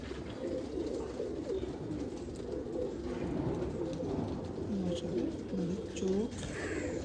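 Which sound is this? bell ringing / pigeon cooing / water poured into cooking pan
pigeon cooing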